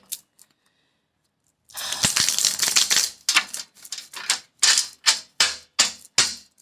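Tarot cards are shuffled in a series of crisp riffling bursts, close up, after a brief quiet start, with sharp separate flutters toward the end.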